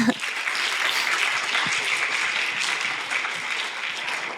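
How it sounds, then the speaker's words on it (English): Steady audience applause welcoming a guest at a talk event, dense, even clapping filling the room and sustained without pause from start to finish. "A big applause here, please"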